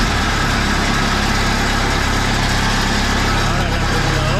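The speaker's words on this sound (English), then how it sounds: "You can hear the engine click." Putzmeister concrete pump truck engine idling at low RPM, a steady, continuous diesel rumble that stays loud and even throughout with no clear breaks.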